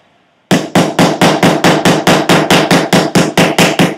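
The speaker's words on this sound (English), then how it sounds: "If I hammer here on something like this," Metalsmithing hammer blows on sheet metal resting on a soft surface: a rapid, steady series of about fifteen loud, close, ringing strikes, evenly spaced, starting abruptly after a brief quiet moment.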